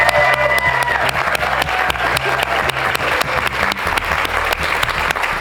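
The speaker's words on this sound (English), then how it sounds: "Let's give her a big round of applause." Studio audience at a women's TV show taping breaks into a big round of applause, dense steady clapping with some cheering that fills the room loudly and evenly throughout.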